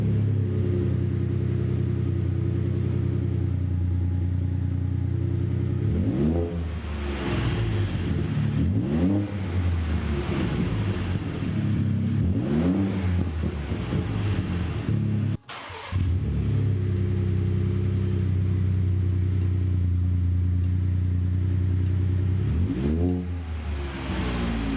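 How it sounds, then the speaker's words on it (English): A 2021 Ford F-150 with the 3.5L EcoBoost V6 and an MBRP cat-back exhaust without a resonator idles with a deep, steady drone, then blips through several rising revs before settling, with a brief cutout midway. "we're gonna fire it up and hear how it sounds with no resonator"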